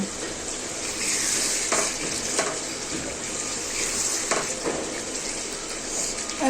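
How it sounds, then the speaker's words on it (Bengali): Meat being sautéed and stirred with spices in a pan for an Eid dish, a steady broad sizzle with occasional stirring scrapes, close and continuous with no talking. "মশলা কষানোর পরে মাংস দিয়ে দিয়েছিলাম মাংসটিও কষানো হয়ে গিয়েছে"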